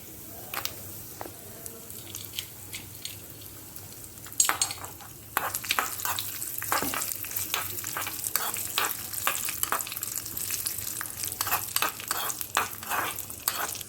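Cashews frying in a pan until light brown before raisins go in: a soft, steady sizzle with scattered stirring scrapes, growing busier and louder halfway through, with no talk.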